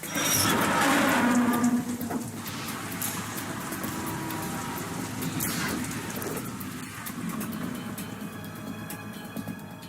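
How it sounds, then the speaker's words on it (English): Steady rain in the PS2 game Metal Gear Solid 2: Sons of Liberty patters and hisses across surfaces, heavier at first then settling, with a low engine rumble underneath. "It stopped raining."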